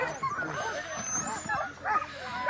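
Sled dogs at a winter sled dog race yip, whimper and bark excitedly in overlapping bursts, fairly close, with people talking amid the commotion.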